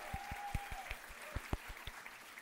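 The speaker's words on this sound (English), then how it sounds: "So, give a big round of applause." A small audience claps in a steady, fairly sparse rhythm of distinct handclaps, heard at a distance and rather faint over a low background hum.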